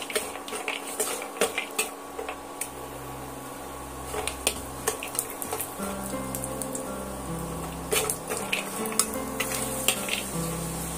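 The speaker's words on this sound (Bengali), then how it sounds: "কড়ার মধ্যে দিয়ে বাদামটা আমি ভালো করে ভাজা করে নেব" Peanuts fry in oil in a kadai, with scraping stirs and clinks of a utensil against the pan over a steady low sizzle, the activity busy and close throughout.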